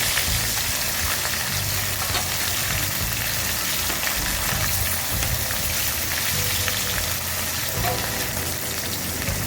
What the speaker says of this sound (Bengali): এবার আমি মাছগুলো কড়াইতে দিয়ে দিচ্ছি ভাজার জন্য।